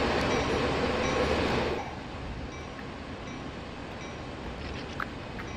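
Locomotives roll along the track in the video game Train Sim World 2, with a steady rumbling, hissing rail noise that is loudest at first and then settles to a lower, continuous drone, with no talking.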